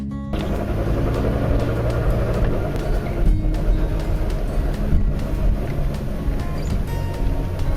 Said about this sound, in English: So the traffic's definitely, busy in town here, or in the city